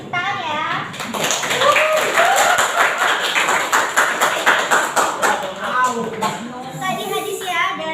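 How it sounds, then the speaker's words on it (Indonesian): A high school class in an Islamic education lesson breaks into group clapping, a brisk flurry of many hands lasting several seconds while children's voices chatter over and around it. "Oke, kita beri tepuk tangan ya"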